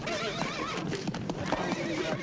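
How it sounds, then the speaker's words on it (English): A horse named Twister whinnies loudly and clearly with hoofbeats clip-clopping underneath, in a brief, close burst with no talk. "Your horse ran away again, Mrs. McGee."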